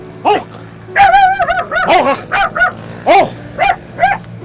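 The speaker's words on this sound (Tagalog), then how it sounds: "Oh, may aso na naman." A dog barks repeatedly at close range, loud and insistent, mixing sharp barks with whining yelps in an uneven rhythm.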